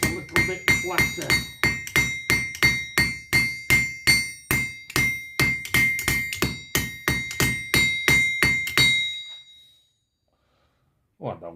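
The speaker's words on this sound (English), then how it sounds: "Straight to the anvil. And see if we can forge it out a little bit flatter." A hammer pounds yellow-hot scrap steel flatter on an anvil while a valve spring compression tool is being made: a long, even run of sharp ringing metallic blows, roughly three per second, close and loud, then silence and a brief faint sound at the end.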